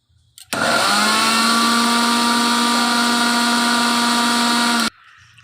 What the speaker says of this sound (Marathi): आता हे सगळं साहित्य आपण मिक्सरमध्ये फिरवून घेऊयात.